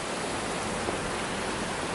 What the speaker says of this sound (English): It is currently raining